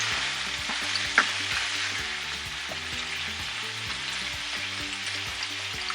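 Goat meat frying in a pan, a steady close sizzle and hiss under a constant rhythmic background pulse, with one brief sharp clink near the start and no talking.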